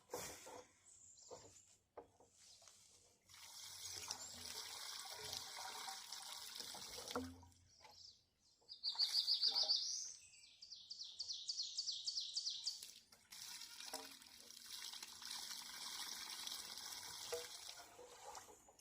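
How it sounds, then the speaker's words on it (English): Water runs into a pipe through a check valve at an off-grid water collection setup, with trickling and gurgling that comes and goes, while birds chirp and tweet nearby. "Let's see if I can actually fill this whole pipe up with water."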